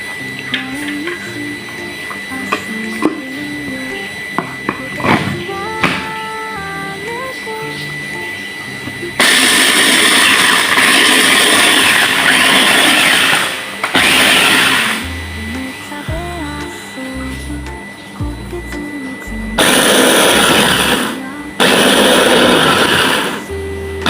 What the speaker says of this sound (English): You can manually do this by crushing the biscuits into soft little bits, but I'm using a food processor